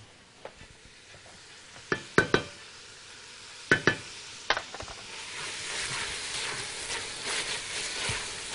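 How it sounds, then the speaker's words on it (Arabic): Tomato paste sautés with onion, peas and carrots in a pan for a meat türli dish, with a low sizzle under a few sharp spoon clinks and scrapes that build to denser stirring near the end. "ونشوحها مع البصل والبسله والجزر"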